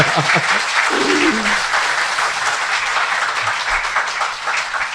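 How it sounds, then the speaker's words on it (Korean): Studio audience at a Korean talk show breaking into steady, dense applause that holds at an even level throughout, with a brief voice heard over it near the start. "박수 부탁드립니다"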